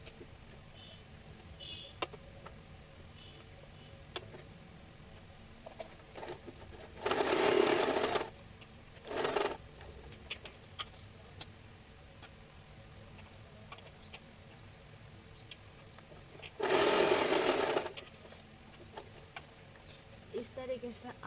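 A sewing machine stitching a plated sleeve design runs in three short bursts of steady whirring, the first and last about a second long and a shorter one between, while someone talks quietly in the gaps.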